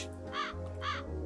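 A bird in the video game Calico gives two loud, harsh caws, each about a quarter second long and spaced evenly apart, over a steady low hum with no talking.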